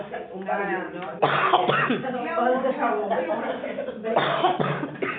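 A woman coughs and clears her throat several times, the harsh bursts mixed in with her speech, close to the microphone.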